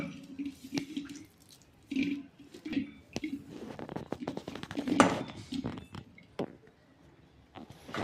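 Wheat dough for puran poli is kneaded by hand as a little water is added, giving close, soft squelching presses and wet slaps at an irregular pace.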